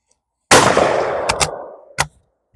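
A 16 gauge bolt-action shotgun fires once at a clay target outdoors, a loud sharp blast with a long fading echo, followed by a few metallic clicks and clacks of the bolt being worked.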